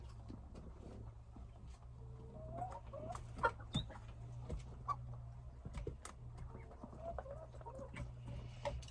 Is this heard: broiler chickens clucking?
yes